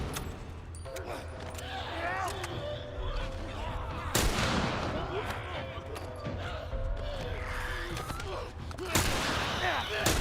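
Gunfire in The Last of Us, several sharp shots cracking out over background game noise, with people talking throughout between the bursts.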